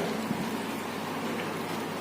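Steady rain falls outside a pork noodle shop on a Don Mueang street in Bangkok, a dense, even hiss of drops on surfaces holding constant for the whole stretch with no voices.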